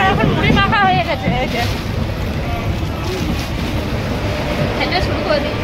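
Inside a moving train near Asansol, a loud continuous rumble and rattle carries over voices talking.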